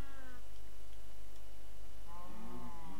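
A video game cat lets out two drawn-out, wavering meows, one at the start and another near the end, over a steady electronic hum with a quiet gap in between and no voices.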